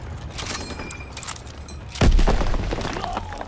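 A grenade goes off in a Call of Duty: WWII battle, one sudden heavy blast halfway through over a background of scattered gunfire and war noise. Its rumble hangs on to the end.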